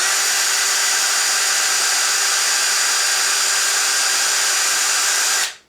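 Ryobi RDD18-0 18V cordless drill-driver spinning at speed 2, a loud, steady high-pitched motor whine held close up for several seconds before it cuts off abruptly.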